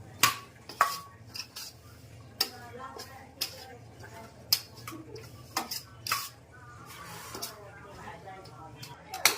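Potatoes being roasted with spices in oil in a pan, with sharp metal utensil clinks and scrapes scattered irregularly throughout, while people talk nearby.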